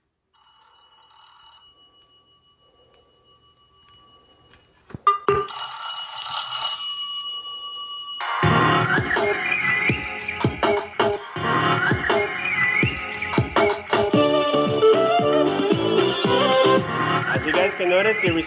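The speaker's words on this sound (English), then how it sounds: "But here we have some of the ringtones." A Cubot S168 Android phone plays several ringtones in turn: first sparse beeping tones, then a short chime, then a loud busy melodic ringtone that carries on to the end, with some talking.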